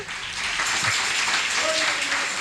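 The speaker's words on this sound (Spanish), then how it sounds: "¿Por qué no le das otro aplauso al Señor?" A church congregation claps and applauds during a sermon, a dense burst of hand clapping filling the room for a couple of seconds, with voices mixed in underneath.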